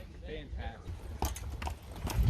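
Horses being warmed up outdoors at Arroyo Cantua, California, with a few sharp hoof clops on hard ground, moderately near, over a low wind-like rumble; a faint voice is heard early on.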